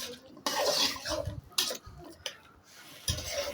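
Chili, onion and garlic sautéed in a pan, with uneven bursts of sizzling and the clatter and scrape of a utensil stirring against metal, close by and irregular, no talking.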